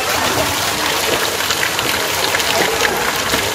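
Flowing water at Bade Mahadev near Bhanpura rushes in a steady, loud, continuous wash, close by, with no clear voices over it.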